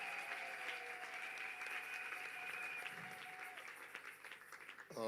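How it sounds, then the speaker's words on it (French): A church congregation at an evening French-language worship service claps and cheers in praise, sustained dense applause with a steady hum beneath, fading slightly toward the end. "quelqu'un peut acclamer pour le roi des rois"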